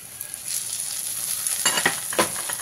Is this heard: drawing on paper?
no